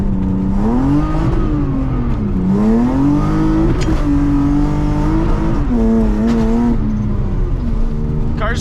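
A drift car's engine revs on a mountain road, rising and falling in pitch as the throttle changes. The drone is loud and steady and close to the car, with brief shifts between rev bands.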